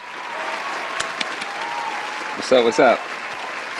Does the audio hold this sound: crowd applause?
yes